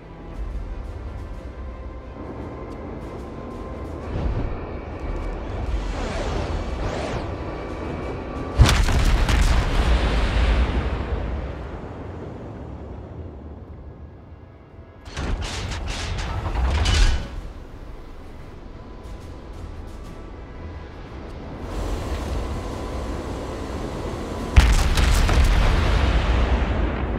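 Ship cannons fire in a naval battle video game as several heavy booming salvos with sudden loud onsets and long rumbling tails, separated by quieter stretches of creaking, mechanical ambience.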